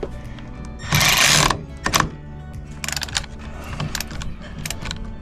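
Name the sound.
14mm socket wrench tightening a bolt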